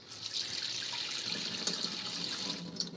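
Water runs steadily into a stone holder used for knife sharpening, a close continuous splashing trickle with a few small drips, no voices.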